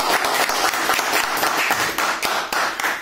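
Applause from a crowd at a Selçuk Kartallar sports club event welcoming a new transfer, dense sustained clapping with sharper individual claps throughout, fairly loud and close.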